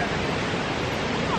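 Huka Falls waterfall in New Zealand, a dense, steady roar of heavy rushing water, loud and continuous throughout the brief moment.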